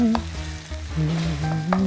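Chopped steak pieces and vegetables stir-frying with sauce in a pan over high heat, a loud continuous sizzle with stirring scrapes and clatters throughout.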